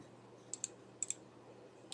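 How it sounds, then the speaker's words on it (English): Several crisp computer mouse clicks come in quick pairs over a faint room hum, close and quiet, with a single softer click near the end. "You click yes."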